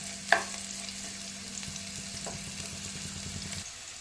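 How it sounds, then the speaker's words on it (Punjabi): Garlic and green chilies fry in a pan for potato chili, giving a quiet, steady sizzle with a sharp utensil clink near the start and faint stirring scrapes. "ਜਦ ਤੱਕ ਸਾਡੇ ਲਸਣ ਤੇ ਮਿਰਚ ਭੁੱਜਦੀ ਆ"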